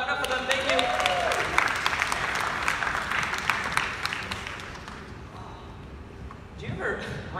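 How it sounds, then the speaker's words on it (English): An audience applauds at a university chapel service, a dense wash of clapping that holds for several seconds and then thins and fades, with a voice speaking over it. "Clap it up for them, thank you."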